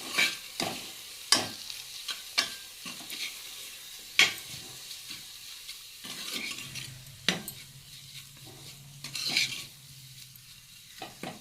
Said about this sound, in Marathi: आता मी सगळं एकत्र मिक्स करून घेते